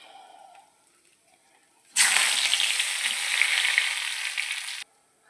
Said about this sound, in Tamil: இப்போ இந்த கருவேப்பிலையும் வறுத்து